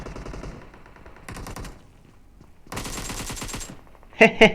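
Rapid gunfire bursts in the mobile battle-royale game PUBG Mobile, including shotgun fire, coming in several loud clusters of quick repeated shots separated by short pauses, ending with two sharp blasts.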